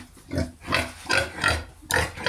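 Pigs on a farm, including a boar and pregnant sows, grunting and oinking in repeated close, fairly loud bursts with no speech.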